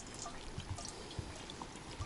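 Local lake water poured into fishing groundbait outdoors at a warm lakeside camp, a soft continuous trickle and splash with a few faint low thumps, fairly quiet and without talk.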